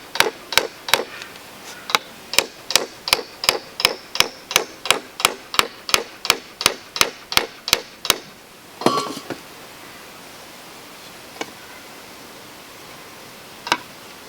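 A hammer drives nails into a wooden bow drill bow made from pallet wood, securing its cord: about twenty evenly spaced, ringing strikes in quick rhythm, then a short scuffle and two isolated taps after a pause.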